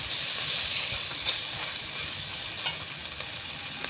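Turmeric powder stir-fried with spices in a pan for a prawn curry with potato and pointed gourd, giving a continuous close sizzle and hiss with a few sharp scrapes of stirring and no talk.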